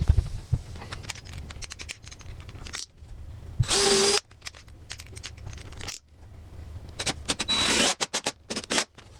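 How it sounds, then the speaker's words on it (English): A power drill pre-drills pilot holes in wooden leg pieces for a portable studio wall, firing in a few short bursts, with one louder sustained whine in the middle, among light handling knocks and rustles. "let me pre-drill these real quick"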